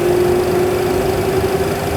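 Aircraft engines on a runway spooling up toward takeoff power, a loud steady droning hum with a strong sustained tone, close and continuous without speech.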